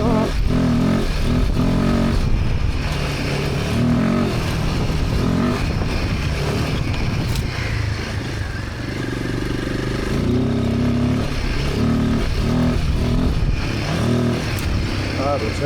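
A Royal Enfield Himalayan 450 motorcycle climbing an uphill dirt track, its engine droning steadily and loudly up close with rough clattering and wind roar throughout.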